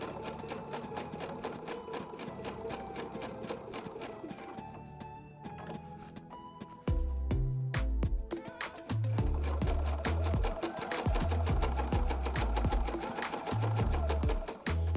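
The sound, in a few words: Pfaff Expression 720 electronic sewing machine running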